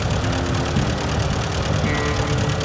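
An old farm tractor engine runs at a steady idle, a loud, continuous low knocking rumble close by with no talking.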